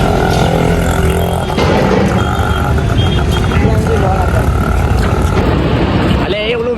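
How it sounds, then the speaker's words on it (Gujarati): A low-flying airplane passes overhead near a riverfront, a loud, continuous broadband roar that fills the scene while voices chatter over it. "અલે એ ઓલું વિમાન"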